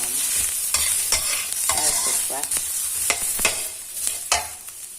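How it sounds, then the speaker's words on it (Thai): Dried chilies being dry-roasted and stirred in a frying pan for Thai chili paste, with steady sizzling and repeated scraping strokes of the spatula close by, with no talking. "เกือบสุกก่อนนะคะแล้วค่อยเอาพริกลงไปคั่วตาม เพื่อที่จะไม่ให้พริกมันไหม้ค่ะ"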